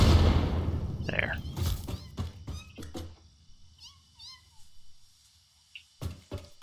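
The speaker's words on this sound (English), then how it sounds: "I hear you, kitties." Cats meowing in the game Satisfactory, several short high meows scattered across the clip, moderately loud amid thumps and a voice talking.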